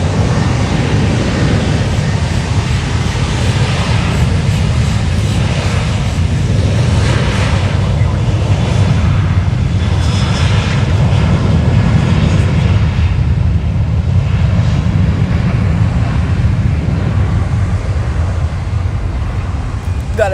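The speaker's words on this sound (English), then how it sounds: "Our next takeoff is Aviation flight 336 for New Haven" A jet airliner taking off at Fort Lauderdale, bound for New Haven, Connecticut, makes a loud, close, sustained low roar that stays steady throughout, with faint voices mixed in.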